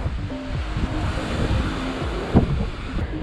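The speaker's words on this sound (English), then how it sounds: "It's very, very windy and very, very rough." Strong wind roars continuously across the microphone on the coast at Ibiza, with rough surf churning underneath and a brief louder gust partway through.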